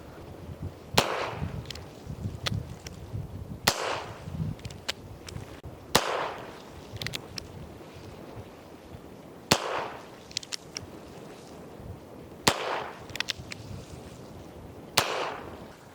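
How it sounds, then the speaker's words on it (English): Several sharp gunshots from a Heritage Rough Rider revolver firing CCI Standard Velocity 22 LR 40-grain lead round nose rounds at a 7-yard target, spaced irregularly a few seconds apart, each a loud close crack. "I'm just going to use CCI Standard Velocity 22 LR 40 grain lead round nose."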